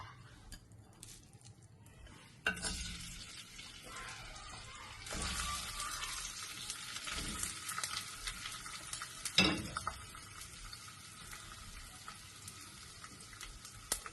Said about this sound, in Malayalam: അത് നമുക്ക് ലേശം ഓയിൽ ഒഴിച്ചിട്ട് ആ ഓയിലിട്ടിട്ട് ഒന്ന് വാട്ടിയെടുക്കാം.